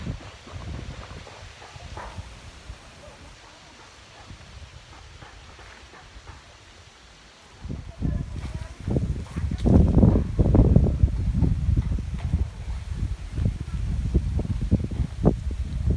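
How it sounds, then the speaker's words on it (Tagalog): Wind rushes and gusts steadily across a farm, growing louder and buffeting partway through, with rustling and rumble against the microphone. "mahangin dito"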